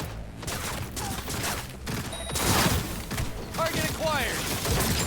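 Rapid bursts of gunfire and impacts from a firefight in the video game Cyberpunk 2077 crackle densely through the scene, mixed with explosive thuds and mechanical clatter, while a voice speaks over the action.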